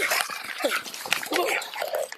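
A dog whimpers and yelps in a tense police arrest at close range, with shouting voices and scuffling around it. The cries come in short, agitated bursts.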